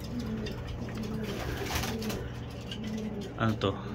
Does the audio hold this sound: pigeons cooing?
yes